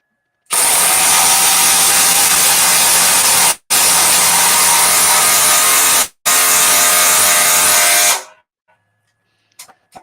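A DeWalt 840 power tool runs at full speed in three long, loud bursts separated by brief stops, a steady close high-pitched whine that cuts off abruptly, followed by a few faint clicks.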